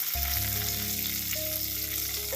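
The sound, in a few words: mustard seeds, dals, chili, curry leaves, ginger frying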